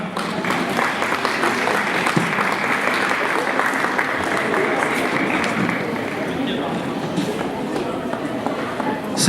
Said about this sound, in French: Félicitations, on peut l'applaudir très fort.